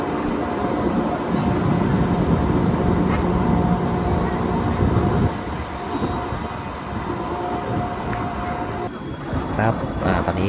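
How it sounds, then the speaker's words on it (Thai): A mountain railway train near Lauterbrunnen, Switzerland rumbles along steadily on its track, a loud rolling drone with rattling that softens midway, with people talking over it. "ตอนนี้รถไฟก็วิ่งเข้าอุโมงค์ครับ"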